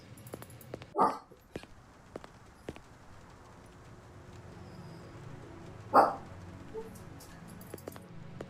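A replicant dog in the Blade Runner point-and-click game gives two separate sharp barks a few seconds apart, moderately close, over quiet ambience with faint clicks.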